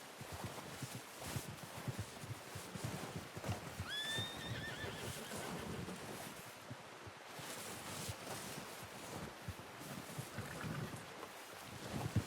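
Horse in Red Dead Redemption 2 gives a clear whinny near the middle, over steady hoof clip-clop and wind-like ambient noise throughout.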